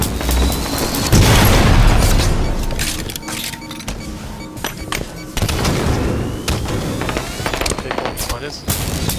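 Grenade blasts in a Halo 5 match, a heavy low boom early followed by more muffled thumps and gunfire, with an insect-like buzzing whine running throughout, loud and close.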